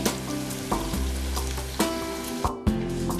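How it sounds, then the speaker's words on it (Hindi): Soya chaap sticks fry in hot oil for a KFC-style crispy dish, giving a steady close sizzle with a few clinks of utensils stirring, no voices. "इसी तरीके से हम सारी स्टिक्स को अच्छे से फ्राई कर लेंगे।"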